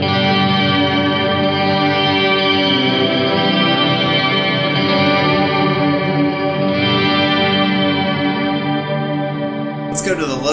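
Electric guitar played through a Walrus Audio Fathom pedal on a clean, dry setting, sustained chords ringing steadily and loud for about ten seconds before a brief noise burst at the end.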